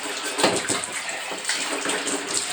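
Dishes being washed in a bathtub, with close, steady running and splashing water that stays loud and unbroken throughout, and no voices.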